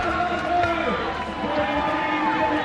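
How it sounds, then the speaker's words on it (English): Spectators cheer and shout at a bouldering climbing World Cup semi-final in Vail, a steady, loud wash of crowd noise with commentators talking over it throughout. "The crowd making equal noise for Team USA and everyone else."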